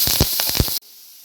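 Onions and crushed ginger-garlic with curry leaves hit hot oil in a pan, giving a loud burst of crackling sizzle for under a second before it cuts off to near silence.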